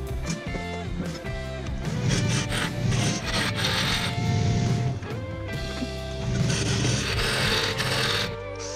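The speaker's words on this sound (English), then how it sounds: "I think I can reach it better right here with the Easy Wood tool." Woodturning on a lathe, hollowing out a piece with an Easy Wood carbide tool: a steady scraping, rasping rub of the cutter against spinning wood mixed with the lathe's hum, with swells in intensity as the cut deepens.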